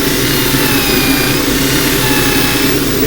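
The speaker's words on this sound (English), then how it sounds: "Your power sanding, that takes away the center very quickly." A wooden plate, turned on a lathe, is power sanded in a loud, continuous whirring rush with a steady motor drone beneath, unbroken and without talk.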